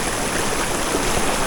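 A mountain stream rushes near the Kolung Jharna waterfall with a steady, close, broadband wash of flowing water that fills the short stretch, and no one speaks.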